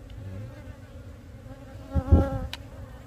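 Honeybee colony buzzing at an outdoor hive in the flowering season: a steady insect drone runs throughout, swelling louder for a moment near the end, with no talking.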